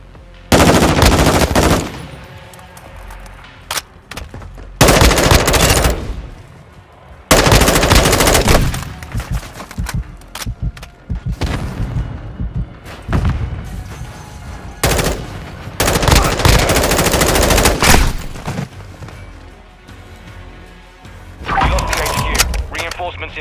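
Video game gunfire in Call of Duty: Modern Warfare II, loud rapid bursts of automatic weapon fire coming in repeated waves with short gaps between them, along with shouted voices.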